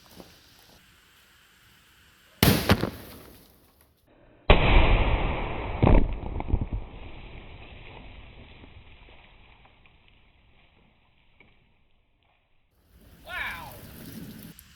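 A muzzleloader loaded with 100 grains of Schuetzen powder and a .490 lead round ball, fired outdoors at a water jug target, giving a sharp loud report and then a second heavy blast that trails off in a long fading rumble.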